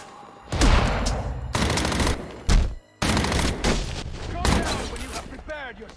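Gunfire in the Batman: Arkham Origins video game comes as repeated loud, close bursts and booming volleys, broken by short pauses and mixed with game effects.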